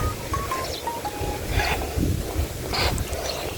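Steady outdoor wind on an overcast day in Bicol, Philippines, buffeting the microphone, a continuous low rumble with a few faint tones and clicks mixed in.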